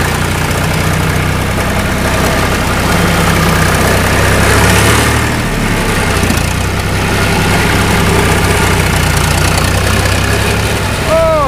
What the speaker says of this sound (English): So, time to fire it up and head out to the field.